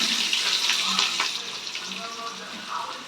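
Onions frying in ghee in a pan for ghee rice, a steady soft sizzle throughout with a few brief clinks, no talk over it.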